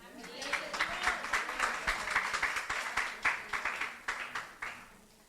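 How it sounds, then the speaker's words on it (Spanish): Steady applause from a church congregation during a sermon, many hands clapping in dense bursts that swell and ease for several seconds. "un aplauso al Señor"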